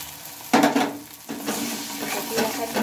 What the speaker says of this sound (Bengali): ফেটিয়ে রাখা ডিমটা দেওয়ার পরে মশলার সাথে পেঁয়াজের সাথে এটাকে ভালোভাবে ভেজে নিতে হবে